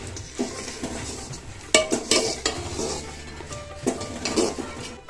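A spoon scrapes and clinks in a pan as jaggery is stirred into sweet pongal over a medium flame, with irregular stirring strokes and a faint sizzle underneath.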